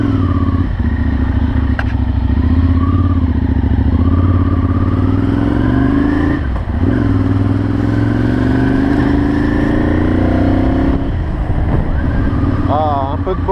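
A Ducati Monster 796 fitted with a Termignoni exhaust rides along, its engine a loud, steady close-up drone with rising and falling revs and brief gear changes. A voice speaks over it part of the time.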